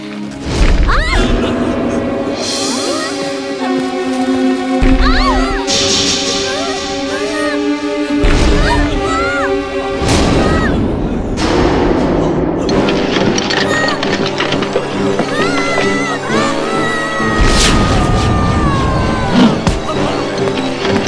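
In a Hindi kids' cartoon, shooting stars crash down like falling meteors in a series of heavy booming impacts under busy music and voices.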